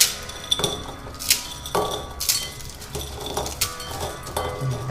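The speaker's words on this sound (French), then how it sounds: "Moi, je vais les couper parce que sinon, je trouve que c'est trop long." Instant noodles for a Japanese-style stir-fry being cut in the kitchen, heard as a series of sharp clinks and knocks of metal and dishes, several separate hits spaced about a second apart, close and fairly quiet with no talk.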